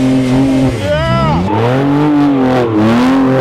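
A weight-stripped Porsche Boxster spins doughnuts, its engine droning loud and close, pitch sweeping up and down continuously as the revs rise and fall.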